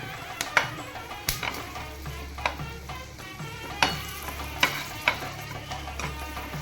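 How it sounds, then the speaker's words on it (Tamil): Garlic sautéing in a pan, a low continuous sizzle broken by regular sharp clicks and scrapes of a spoon stirring against the metal, no voices. "நல்லா ஒரு 2 மினிட்ஸ் வதங்கணும். நல்லா பூண்டு"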